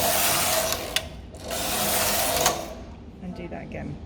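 A knitting machine carriage runs across a row of stitches while yarn is decreased for eyelets, giving a loud, steady mechanical whirring rush in two long passes with a brief clack between, then quieter clicks.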